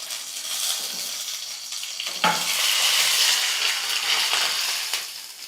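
Mustard seeds, urad dal and curry leaves tempering in hot oil for coconut chutney give a steady, loud crackling sizzle, flaring into a sharper burst midway and holding strong to the end.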